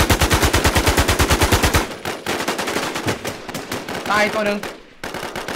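Rapid automatic gunfire in the video game Infestation, with players shooting at ghosts: a dense, rhythmic burst of shots, then scattered firing and game sounds beneath excited talk from the players.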